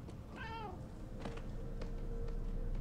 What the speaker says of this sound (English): That's a creepy looking cat.